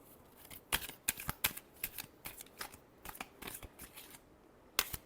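Tarot cards being shuffled by hand, a quiet run of crisp riffling flicks and snaps in uneven bursts, close up with no talking.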